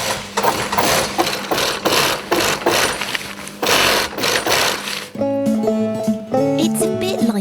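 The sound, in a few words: sewing machine stitching nylon balloon panels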